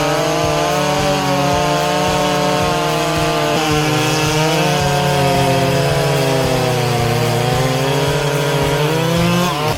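A Stihl 090 chainsaw with an 8-horsepower engine roars loud and close while cutting wood, its engine note steady with slight load-driven pitch dips and no voices.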